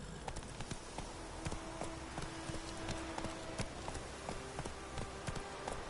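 Hooves of Geralt's horse Roach clip-clopping in The Witcher video game, a brisk steady gait of repeated sharp hoof strikes over faint ambient tones, with no one talking.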